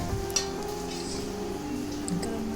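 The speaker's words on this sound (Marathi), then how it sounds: "तीन चार पळी गरमागरम तेल आपण तिखटवर घातल्यानंतर मग आपण हिंगाला प्रथम फोडणी देणार" Hot oil poured over chili powder sizzles softly and steadily in a pan while pickle is made, with a few faint metallic clinks of a spoon and no talking.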